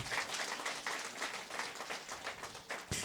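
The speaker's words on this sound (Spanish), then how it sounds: "Dale palmas a Jesucristo." Congregation at a church gathering claps together in a fairly rhythmic, brisk pattern, dense and close, sustained throughout with a brief louder burst near the end and no speech.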